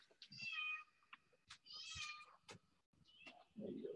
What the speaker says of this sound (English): Probably hear my cat in the background.